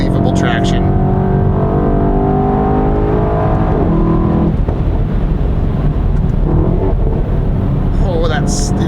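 Engine of a 2018 Mercedes-AMG E63 S Edition 1 4MATIC+ pulling hard out of corners, a loud, steady, rising roar throughout with someone talking over it.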